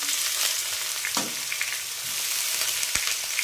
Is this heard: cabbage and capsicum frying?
yes